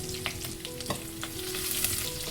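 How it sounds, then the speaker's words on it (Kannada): Crushed garlic and curry leaves fry in hot oil in a pan, giving a steady soft sizzle with light stirring scrapes, faint and close, with no voices. "ಬೆಳ್ಳುಳ್ಳಿದು ಸ್ವಲ್ಪ ಹಸಿ ವಾಸನೆ ಹೋಗೋ ತನಕ ಫ್ರೈ ಮಾಡ್ಕೊಳ್ಳೋಣ"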